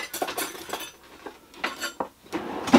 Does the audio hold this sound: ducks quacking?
no